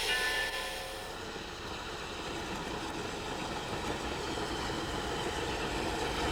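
The Eureka and Palisade No. 4, an 1875 Baldwin narrow-gauge wood-burning 4-4-0 steam locomotive, rumbling steadily as it runs, with a continuous rolling rail noise at moderate distance and no voices.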